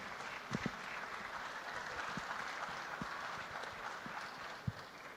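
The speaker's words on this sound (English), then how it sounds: "A round of applause, ladies and gentlemen." An audience at a tech fair claps for a payments and lending startup pitch, a steady, dense round of applause with a few sharper claps standing out near the front.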